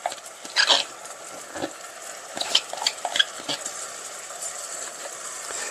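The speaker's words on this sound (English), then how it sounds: "With the shallots, that's frying nicely in there." Shallots fry in a pan: a steady soft sizzle with occasional louder crackles and the scrape of a spoon stirring, close and moderate in level.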